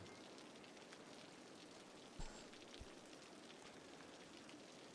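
Steady hiss of rain in the city-building game Cities: Skylines, an even, continuous wash of falling drops with a couple of faint thuds.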